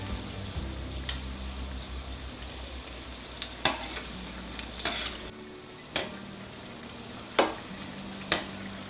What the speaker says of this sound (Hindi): तो अगर आप पकोड़ों को सरसों के तेल में फ्राई करते हैं तो उनका बहुत मज़े का टेस्ट आता है।